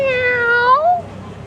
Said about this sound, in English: Meow. Did you hear that?